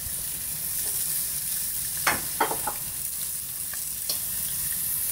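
Pork neck steaks seasoned with grill spice sizzle steadily in a frying pan, a close continuous hiss of hot fat with a few louder crackling pops partway through, no talk.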